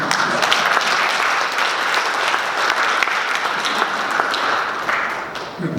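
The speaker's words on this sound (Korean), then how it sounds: "우리 그런 의미에서 강학장님한테 박수 한번 드립니다" An audience at a lecture bursts into sustained applause, dense clapping from many hands that holds steady for several seconds before tapering slightly at the end.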